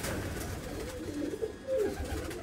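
Oman teddy pigeons in Muscat give soft, low cooing calls, a couple of short rolling coos close by over a faint background hum.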